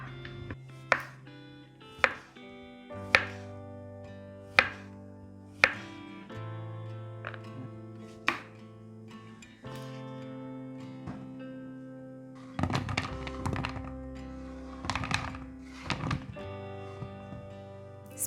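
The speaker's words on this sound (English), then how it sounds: "Slice the zucchini to about half a centimeter thickness" Knife slicing zucchini into half-centimeter rounds on a cutting board for Korean pancakes, sharp chops arriving singly and spaced apart, then a quicker cluster of cuts near the end over soft background music.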